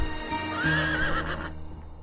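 A horse whinnies loudly and close, a rising and wavering neigh that fades out, with faint hoof clops beneath, from a Hindi TV fantasy serial featuring a flying horse.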